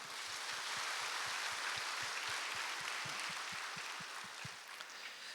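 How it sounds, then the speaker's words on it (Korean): A church congregation claps to welcome new members at a Sunday morning service, a soft, distant patter of many hands heard faintly and evenly across the whole stretch. "동산의 가족이 되신 분들께 마음을 담아 박수로 환영하도록 하겠습니다"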